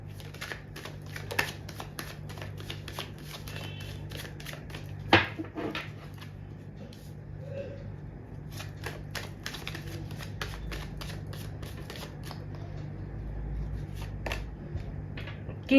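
A deck of tarot cards is shuffled close up in rapid riffling bursts and flicks, with a sharper slap partway through, no voices.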